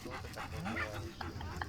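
A dog pants on a beach in Lignano, giving quick, steady breathy pants up close for under two seconds while voices murmur in the background.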